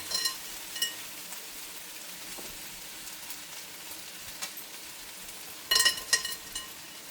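Cabbage and chopped garlic cloves frying in a skillet for a Southern cabbage, onion and sausage dinner, a faint, steady sizzle with a few louder crackling spurts near the end.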